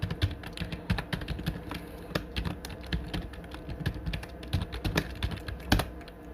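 Computer keyboard keys clattering steadily as C code is typed, irregular rapid clicks with brief pauses, close and alone with no voices.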